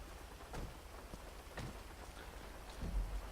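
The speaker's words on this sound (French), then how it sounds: "il est en train de pleuvoir." Steady rain falling in the video game GTA 5, a soft continuous hiss with faint low rumbles underneath, heard alone at low level.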